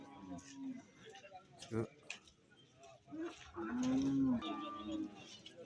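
Cattle at a busy livestock market after rain, a large cow among the animals, giving a long, clear moo near the middle, with other low lowing and bird calls around it while someone talks.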